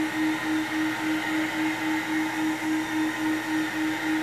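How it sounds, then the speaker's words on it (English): A Rotovac portable rotary carpet cleaning machine runs continuously nearby, its motors holding a steady loud drone with a strong tonal hum and a slight rhythmic pulsing from the rotating heads. "when I'm cleaning with the Rotovac, I can stand with my back straight and let the motors do the work"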